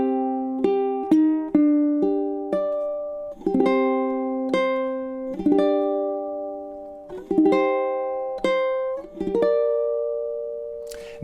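A ukulele plays a chord melody arrangement of Sakura, with plucked notes and chords ringing out and decaying in an unhurried phrase, close and clear with no talk.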